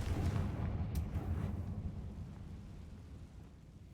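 A Confringo blasting spell explodes in Hogwarts Legacy with a deep, heavy boom that rolls and slowly decays like distant thunder over several seconds, loud at first and then gradually fading.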